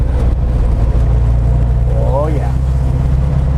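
A 1967 Porsche hotrod engine drones loud and steady up close, with a brief rising rev partway through and someone speaking over it.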